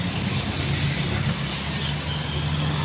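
A Mitsubishi Fuso truck labors uphill on a steep road, its engine giving a loud, constant low drone close at hand with no break.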